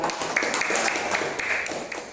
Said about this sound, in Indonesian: beri tepuk tangan pada Mas Asul